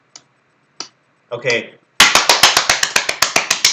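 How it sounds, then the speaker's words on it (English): A person claps hands in a regular pattern, a dozen or so sharp, evenly spaced claps following a few brief taps and a short spoken word. "Mary, if you could just clap in like a regular pattern, right?"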